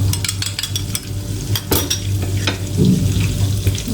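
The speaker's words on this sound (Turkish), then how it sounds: "İki tane yumurtamı da çırptım şöyle" Two eggs are whisked, likely with a fork, in a bowl, giving quick, repeated metallic clicks and scrapes over a wet churning hiss, close and loud, with no talking.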